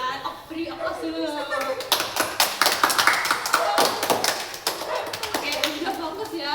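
A group claps for the winner of a classroom ping-pong word game, a burst of quick, uneven hand claps rising and tapering while children and an adult talk over them.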